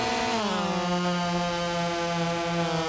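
Husqvarna 50, 51 and 55 chainsaws scream at full throttle through wood in a cutting race, a loud, continuous high engine whine that dips in pitch as the chain bites, then holds steady.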